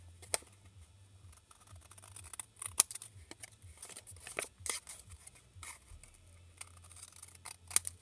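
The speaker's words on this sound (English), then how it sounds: "we're going to cut all the pieces that have the triangle" Quiet, intermittent snips of scissors cutting paper template pieces for a hanging geometric ball ornament, short crisp cuts in irregular bursts with faint paper rustling between them, no talk.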